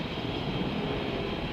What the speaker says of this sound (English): Hopefully the helicopter can get them and then go away.